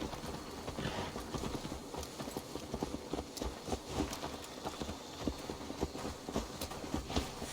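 Horse hooves clip-clop steadily in Assassin's Creed Valhalla, a continuous rhythmic trotting with dense overlapping hoof strikes under game ambience, moderately close and even in loudness throughout.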